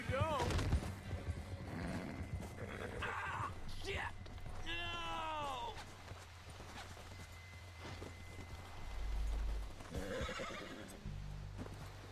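Horse in the Red Dead Redemption 2 video game whinnies loudly with a falling, quavering call, its hooves clopping around it, over a low rumbling game backdrop with occasional faint bursts of other noise.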